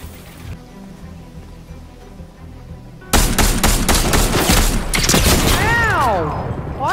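Loud, rapid gunfire erupts midway through a Fortnite match, a dense burst of repeated shots with a gliding electronic whine over the final seconds, following quieter game ambience.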